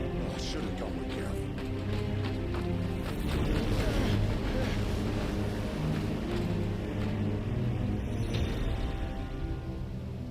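Stormy wind in the Final Fantasy XVI video game: a steady, dense roar that stays loud and unbroken throughout, with faint rumbling and gusty hiss underneath.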